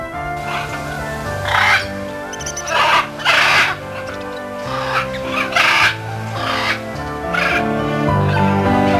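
Loud, repeated harsh bird calls ring out in bursts over a bed of music in North Cyprus, several caws spaced irregularly and close.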